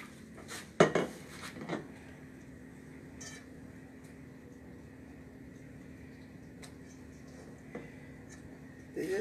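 Banana bread French toast slices soaked in custard being set into a skillet, a few clattering knocks of pan and utensil early on, then a quiet stretch with a faint hum and another light clink near the end.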